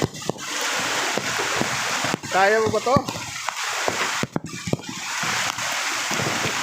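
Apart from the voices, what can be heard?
rushing floodwater current during Typhoon Carina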